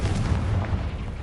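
A Confringo blasting spell detonating in the video game Hogwarts Legacy, a low muffled explosive boom that lingers as a steady rumbling roar through the brief moment, moderately loud with no voice.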